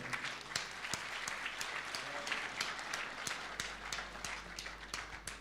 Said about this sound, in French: Merci, on l'applaudit très fort